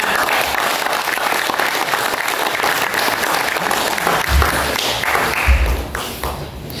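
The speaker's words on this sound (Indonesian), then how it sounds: "Kasih tepuk tangan" Sustained, dense applause from a crowd at a religious gathering fills the whole stretch, steady and loud, thinning slightly toward the end.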